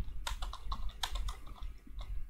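Code is typed on a computer keyboard, a quick, close run of about eight to ten crisp key clicks over two seconds with no talking.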